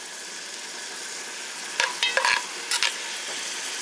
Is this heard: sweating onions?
yes